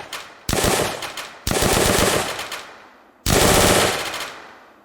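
Video game bullet impacts on metal and wood in a team deathmatch game: three separate sharp, crackling hits with noisy decaying tails, close and loud, no talking.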